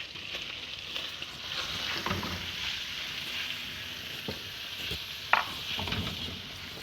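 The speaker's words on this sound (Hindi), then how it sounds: "इसके अंदर अब चिकन डालेंगे।" Boiled chicken stirred into a pan of macaroni pasta, a steady soft sizzle with occasional spoon scrapes and clinks, close and fairly quiet throughout.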